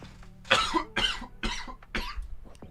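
A person coughs four times in quick succession, close to the microphone, with short pauses between each harsh burst.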